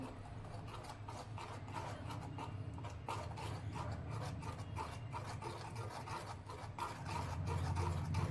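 Thick jowar ambil being stirred in a pot, a continuous soft scraping and rubbing with an uneven back-and-forth rhythm, fairly quiet and close.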